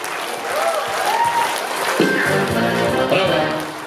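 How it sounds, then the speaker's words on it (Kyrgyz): Wedding guests clap more energetically in a restaurant, applause building under some crowd noise and scattered voices, fairly loud and sustained. "Бираз шаңдуураак кол чапсын болобу меймандар?"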